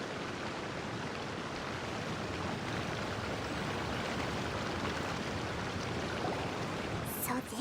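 A waterfall in the Genshin Impact video game pours in a steady, full rush of broadband water noise that runs unbroken throughout, with nothing else clearly heard.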